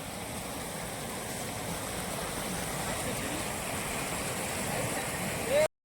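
Small stream flowing with a steady, broad rushing and gurgling of water, continuous and fairly close, with no other clear sounds.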